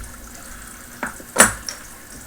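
A bottle of Nickle Brook Maple Porter, a 6.0% ABV beer, is cracked open with a single sharp pop and hiss, followed by a couple of short clinks and pouring sounds in a quiet room.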